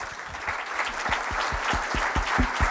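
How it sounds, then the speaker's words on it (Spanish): An audience at a ufology congress in Barcelona applauds, a dense, steady patter of clapping from a crowd filling the room. "Vamos a despedir con un fuerte aplauso a Salvador Freixedo."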